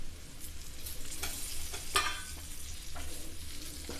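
Slit boiled eggs are stirred into frying pepper masala for egg pepper fry, a constant sizzle broken by several scraping strokes of a spoon against the pan, close and moderately quiet.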